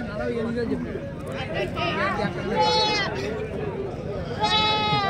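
Goats bleating at the Cheluru goat market in Karnataka, several wavering cries rising over a crowd's babble of talk, near and loud.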